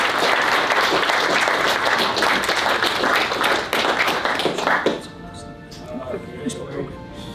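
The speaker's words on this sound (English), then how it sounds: "I think they deserve a round of applause." An audience at a hometown heroes honors event at South Point Hotel & Casino breaks into dense applause that fills the room, then fades after a few seconds as a voice speaks over the quieter end.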